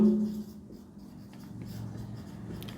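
Marker or chalk strokes on a board during a reasoning class, a soft scratchy scrawl running steadily for a few seconds, close and fairly quiet, with no talk over it.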